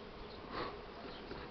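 A swarm of honeybees leaves the hive with a steady, dense buzzing drone that swells briefly and carries on for the whole moment.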